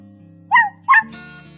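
A dog gives two short, sharp yelps or whimpering barks in quick succession, close and loud, followed by a low steady hum in a quiet room.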